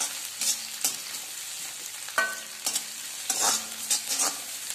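Onions sizzle in a pan while being stirred for paneer noodles, with a steady close fry and repeated scraping stirs of the spatula at irregular intervals, and no speech.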